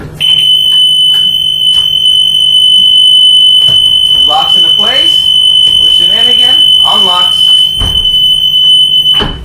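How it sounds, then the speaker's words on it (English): A school bus emergency door buzzer sounds as a steady, loud electronic tone throughout, with a person talking over it and door latch clunks in between. "By opening the door, buzzer should go on."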